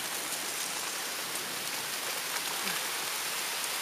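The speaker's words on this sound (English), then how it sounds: "the rain instead decides to" Heavy rain pours steadily at night in a dense, unbroken hiss of drops close at hand, loud and constant with no pauses.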